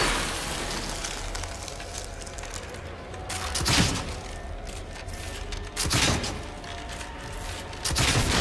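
Gunfire from a gun in the horror video game The Evil Within, during a boss fight against the Keeper: three heavy, booming shots spaced a couple of seconds apart over a dense, rumbling game soundscape.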